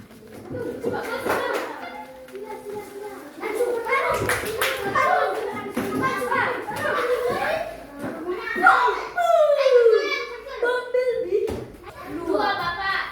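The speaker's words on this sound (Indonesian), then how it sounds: "tepuk tangan untuk kelompok 2 pemenang ini" Schoolchildren clap their hands for a winning group during a classroom activity, in bursts of scattered, close clapping mixed with lively kids' chatter and chuckles.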